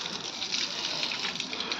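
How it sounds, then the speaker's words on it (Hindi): Irrigation water gushing steadily into a village farm field under overcast weather, a constant broad rushing hiss with no pauses. "पूरा पानी मारा जा रहा है ताकि पूरा पक जाए"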